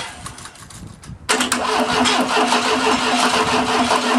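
A monster trike engine is cranked with the choke partly on and catches after about a second, then runs at a loud, steady idle close by.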